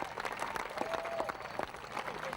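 Spectators applaud riders crossing the finish line at a mountain bike race, a steady wash of clapping from a crowd held at an even level throughout.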